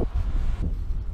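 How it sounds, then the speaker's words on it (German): Wind buffets a microphone while cycling along a bike path beside the Rhine near a federal road, a close, rumbling low-frequency roar that gusts and shifts continuously with no speech. "der Wind hat ein bisschen zugenommen. Ich hoffe, es stört nicht so arg beim Reden."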